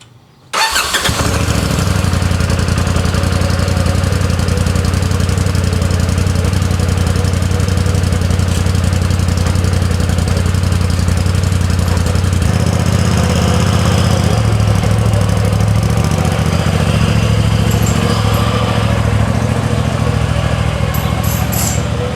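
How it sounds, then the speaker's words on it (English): A cold engine is started and left to idle, turning over abruptly and then settling into a loud, steady, rumbling idle with a constant low throb that runs unbroken for about twenty seconds. "let me start this up, do a cold start for you guys"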